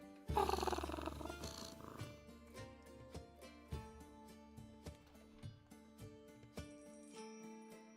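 In a video game, a loud burst of music and chimes opens, then soft ticking and tinkling continue in a steady rhythm with a cat's low purring rumble beneath.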